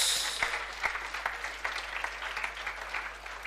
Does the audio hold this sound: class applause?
yes